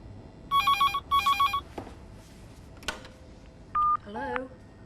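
A telephone rings in two short double-burst rings, followed by clicks, a brief single tone and a warbling electronic chirp over a low hiss.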